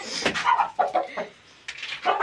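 An Aseel rooster clucks in short, bursty calls close by, several sharp clucks with brief pauses between them.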